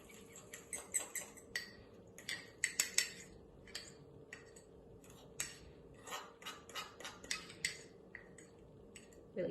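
A fork scrapes and taps against a dish, scooping honey into a homemade sauce; the clicks come in quick, faint bursts of light metallic ticks spread across the clip, close by and quiet.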